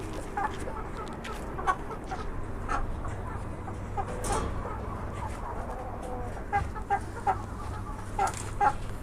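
Chickens and roosters at a breeding coop clucking and calling near the listener, with scattered sharp clucks over a steady low background.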